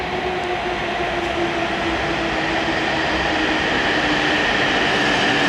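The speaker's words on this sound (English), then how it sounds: "made it onto the bullet train in time." Steady interior rumble of a Japanese bullet train in motion, a dense continuous roar with a faint high whine, heard from inside the car.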